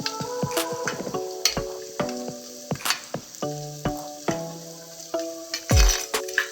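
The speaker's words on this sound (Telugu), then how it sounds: "ఆనియన్స్ గోల్డెన్ బ్రౌన్ వచ్చే వరకు వేపుకోవాలి" Onions fry in a clay pot for mutton pulao, a crackling sizzle broken by frequent ringing clinks and knocks of a spoon against the pot, loud and close, with no one speaking.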